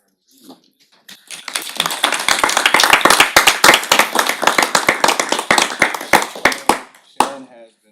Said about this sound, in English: you guys would please appease me in a round of applause from Sharon Reed.